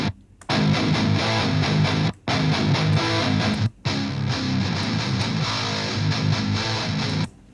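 A distorted, heavily driven metal guitar from an MLC Sub-Zero 5 tone pack, raw without equalization, plays chugging riffs from a mix, dense and loud with brief gaps of silence between phrases.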